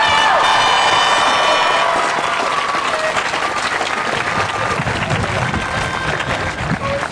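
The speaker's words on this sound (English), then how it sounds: "can we get a huge round of applause for the wonderful graduating class?" A large crowd at the 2019 Los Altos High School graduation ceremony bursts into loud applause, cheers and shouts for the graduating class. Whoops ring out over continuous clapping that stays strong throughout.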